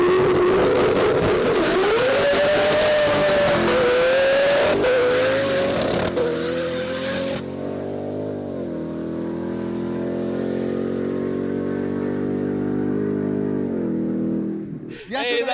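A tuned four-rotor Mazda RX-7 screams loudly at high revs with a rising, shifting whine, then drops to a lower, throbbing burble. Voices are heard over it.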